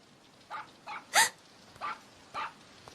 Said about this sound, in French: Mon chien n'a pas l'habitude d'aboyer